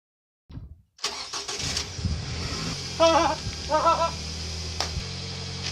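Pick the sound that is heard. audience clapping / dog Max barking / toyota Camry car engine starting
toyota Camry car engine starting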